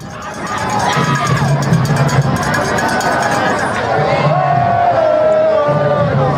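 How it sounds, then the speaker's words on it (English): A large St. James crowd cheers and chants at a high school football game, a loud and sustained roar of many voices that rises in waves across the whole stretch. "The St. James crowd beginning to serenade the visiting side."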